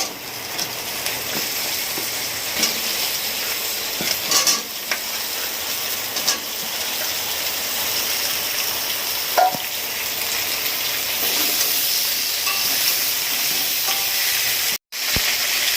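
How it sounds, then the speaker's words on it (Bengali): Chunks of elephant foot yam fry in a pan with cooked-down spice masala for a tangra fish curry. A steady, close sizzle continues throughout, with occasional stirring scrapes and a brief dropout near the end. "মশলা কষানো হয়ে গেছে, আবার ওলগুলো দিয়ে দেবো।"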